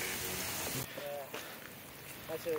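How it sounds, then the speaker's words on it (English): Heavy summer rain pours down steadily outdoors in the Jemez mountains, a dense continuous hiss with brief voices briefly audible over it. "Man, it is pouring."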